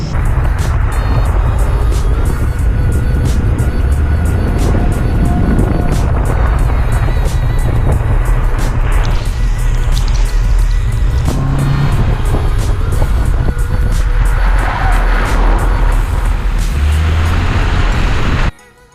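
A Mitsubishi Outlander drives a slippery test-track section in four-wheel drive, heard from inside as a loud, continuous engine and road rumble that cuts off abruptly at the end.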